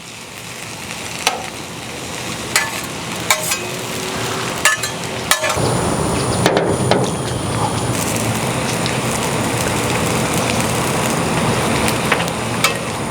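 Butter melts on a hot Blackstone griddle outdoors, giving a continuous crackling sizzle with scattered sharp pops and clicks early on, then a denser, steady hiss that carries on without any talk.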